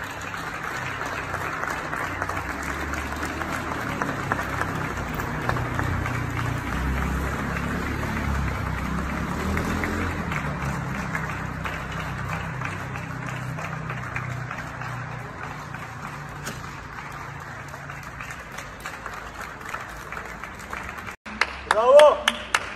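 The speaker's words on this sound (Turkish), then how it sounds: "Türkiye'nin her tarafından Twitter üzerinden balkonlarda alkış sesleri geliyor" People on balconies applaud healthcare workers in a dense, continuous wash of clapping from many distant households. A few scattered shouts rise near the end, and a voice speaks over it.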